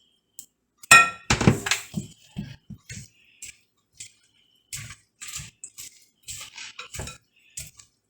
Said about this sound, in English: I will pour my egg to the shredded zucchini, my egg and the all-purpose flour with the salt and black pepper, and then mix them together